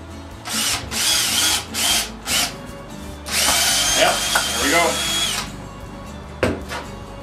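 A power drill whirs in several short bursts while making a lamp, then a longer run with rising and falling pitch, close and loud.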